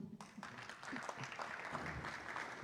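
Applause at an international artificial intelligence congress greets an engineer's talk, a fairly faint but continuous spread of many hands clapping with a murmur of crowd beneath.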